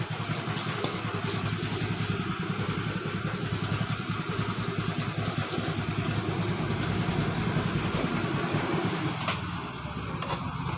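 Motorcycle engine idling steadily during a battery and regulator (kiprok) charging fault check, a close, continuous mechanical putter with light clatter running alone throughout.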